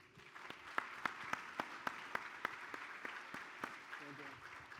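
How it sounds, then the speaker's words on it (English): Audience applause for a panelist at an Aruba seminar, faint and distant, with a few sharp rhythmic claps standing out above a soft spread of clapping and background murmur. "A big applause."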